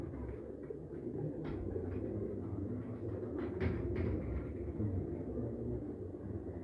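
Lal Pari pigeons, a dub-type breed, coo softly amid a steady low rumble of background noise, their calls faint and blended into the murmur rather than standing out clearly.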